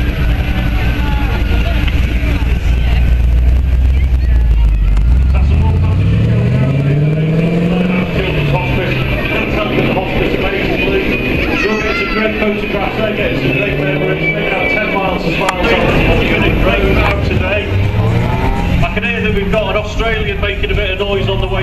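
A Vauxhall VXR8 / HSV GTS R8 drives a lap at the Royal Albert Dock, its loud engine rising and falling in pitch as it accelerates and passes, with a voice talking over it throughout.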